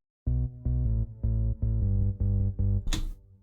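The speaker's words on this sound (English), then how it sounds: "It's a basic pulse wave." A Nexus 2 preset synth layer, a basic pulse wave for a hardstyle lead, plays a repeated pattern of short, evenly spaced buzzy notes, clean and close, then ends on a brief noisy burst.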